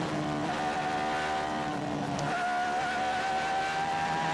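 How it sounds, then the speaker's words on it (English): A 1988 Formula One race car braking and then accelerating hard past 300 km/h, its high engine note holding a steady loud whine with a brief dip and rising pitch midway, continuous throughout. "And then hard on the accelerator, back up to over 300 kilometres per hour."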